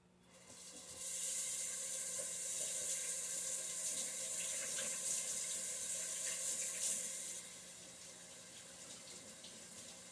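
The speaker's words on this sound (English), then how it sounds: "And I gotta wash my hands." Running tap water pours steadily into a sink while hands are washed, a bright continuous splash that starts after a second and eases off near the end, close and fairly quiet with no talking.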